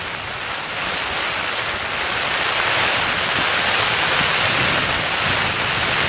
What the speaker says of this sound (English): Been windy all night, but that's the rain on.